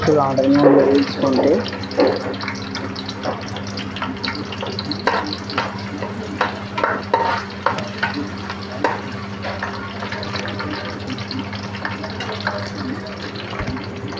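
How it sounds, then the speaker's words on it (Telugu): Onions frying in oil in a pan, a steady hiss and crackle with scraping stir noises throughout, fairly close, with a louder burst of sizzling at the start. "ఉల్లిపాయలు కొంచెం ఆనియన్ నూనెలో వేయించుకుంటే టేస్టీగా ఉంటుంది."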